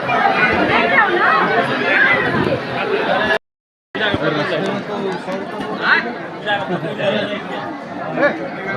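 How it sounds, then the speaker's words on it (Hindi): A large, dense crowd of pilgrims gathered at Vasukinath temple, a continuous loud babble of many overlapping voices, briefly cut to silence for half a second before the chatter resumes. "और ये देखो भीड़ बहुत ज़्यादा है यहाँ भी।"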